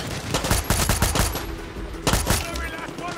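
Gunfire in the video game Far Cry 6, with rapid bursts of shots and clusters of sharp cracks in quick succession, loud and close, with no speech over it.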